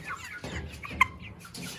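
Chickens cluck softly in short bursts nearby, with one brief sharper call in the middle, fairly quiet overall.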